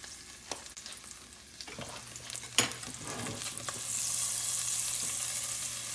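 Grass-fed butter melting into steak pan juices, starting with quiet scrapes and a clack, then building into a soft, steady sizzle over the last couple of seconds, no voices.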